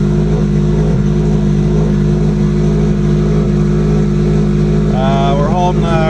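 A Subaru GC8 idles steadily at about 1600 RPM after a cold start, a loud, even, close engine hum with a faint rhythmic pulse and a brief higher whine near the end.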